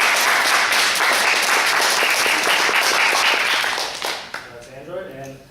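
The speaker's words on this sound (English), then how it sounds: "I'm going to leave this up to you guys for applause." Audience applause at a live event where the crowd votes for competitors, loud and dense for about four seconds, then fading out as a voice begins speaking.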